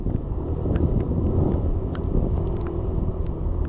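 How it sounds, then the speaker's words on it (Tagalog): Strong wind roars and buffets the microphone in a steady, loud rumble, with no voices present. "Lumakas ano yung hangin"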